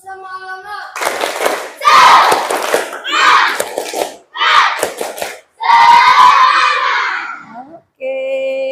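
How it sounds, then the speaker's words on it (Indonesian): A class of children doing the tepuk semangat chant in an Indonesian school lesson, loud bursts of rhythmic clapping mixed with shouted group chanting in several phrases, close and energetic. "kita tepuk semangat dulu"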